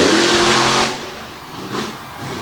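The monster truck Toxic at Winchester in 2022 roars loudly, its engine easing off for a moment before surging back with a fresh rev.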